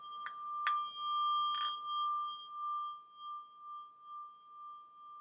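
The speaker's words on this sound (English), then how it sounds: "They call this a Japanese gong" A Japanese gong singing bowl, set among traditionally made Tibetan Buddhist materials, is struck with a few light taps, then rings on as a pure sustained tone that slowly pulses and fades, with no talking.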